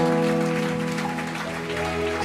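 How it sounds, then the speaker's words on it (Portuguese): A church congregation claps during a service, a steady wash of applause under sustained music and a voice. "E você dá uma salva de palmas para Jesus."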